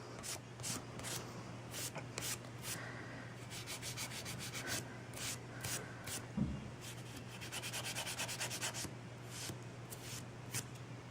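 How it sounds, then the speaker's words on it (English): A nail file rubs back and forth across a nail tip in quick, light, scratchy strokes, close and faint, repeating in irregular bursts over a low steady hum. "you're literally just filing and filing and filing"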